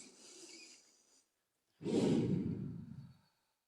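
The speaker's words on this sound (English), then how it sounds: "Take a deep breath in." A person takes a deep, audible breath in, then lets out a long, loud exhale, close to the microphone with a pause between the two breaths.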